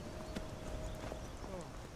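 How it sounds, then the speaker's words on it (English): Horse hooves clip-clopping at a steady gait in Skyrim Special Edition, soft and fairly distant under a low background bed, with a faint tonal hum running through. "I don't know where that horse is going, but he's going."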